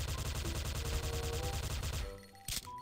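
Rapid, evenly spaced shots from classic old-style guns in the shooting game XSHOT rattle off in a steady, loud burst, then stop abruptly and leave a few scattered clicks and a sharp crack.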